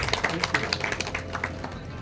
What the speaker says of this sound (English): Please give a big round of applause for both our speakers